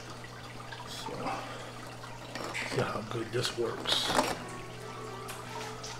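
Water runs and splashes through an aquarium water change attachment, a steady flowing wash with bursts of gurgling, while someone talks over it.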